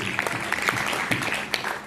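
Audience applause at a DXN business training camp in Amritsar, steady dense clapping from a crowd filling the space, with a few sharper claps standing out and some voices mixed in.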